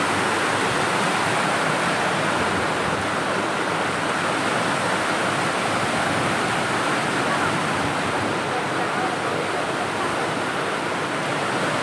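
Fast-flowing floodwater rushes past a bridge in a steady, loud broadband roar, with no breaks or talking throughout.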